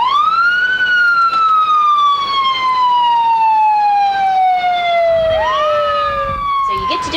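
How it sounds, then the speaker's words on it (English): A loud electronic ambulance siren wails continuously, its pitch sliding slowly downward before jumping back up near the end, close and piercing throughout. "now we're going to hear the siren"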